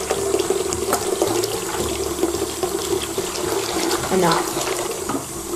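Water runs steadily from a tap while shampoo is rinsed out of blonde hair extensions, a loud continuous splashing rush, with a brief spoken word partway through.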